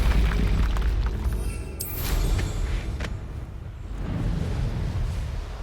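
A Confringo fire-blast spell from Hogwarts Legacy on Xbox Series S bursts with a muffled boom and crackle, followed by rumbling combat noise and no talk.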